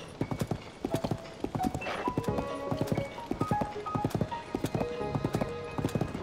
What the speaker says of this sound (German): ich mag das einfach auf dem Pferd hier durch die Länder durchzustreifen